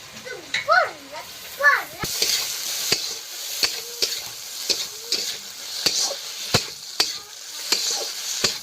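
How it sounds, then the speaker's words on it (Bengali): Grated coconut sizzles in hot oil in a pan for a taro-leaf and prawn dish, with steady frying hiss and repeated sharp scrapes of stirring; children's voices chatter briefly at the start. "এবারে নারকেল দিয়ে দেবো তেলটা যেহেতু হয়ে গিয়েছে"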